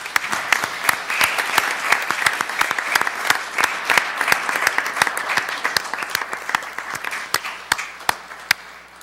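Sustained applause rings through a city council meeting chamber, many people clapping steadily for about nine seconds at an even, moderately loud level.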